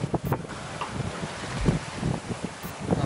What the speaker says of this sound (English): it looks like the wind's actually dropping quite a lot